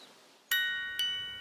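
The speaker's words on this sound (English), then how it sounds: "I liked this glockenspiel sound because I thought it had a tiny and cute sound" A solo glockenspiel plays a bright, tiny-sounding bell melody: two clear struck notes half a second apart, each ringing and slowly fading over a quiet background.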